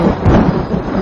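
Heavy rain with a low rumble of thunder fills the short stretch, loud and continuous with no talk over it.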